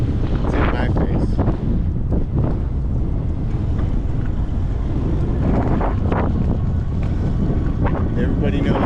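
Loud, steady wind roars and buffets the microphone during a cargo e-bike ride through Minneapolis, a constant rumbling gust with brief harder bursts throughout.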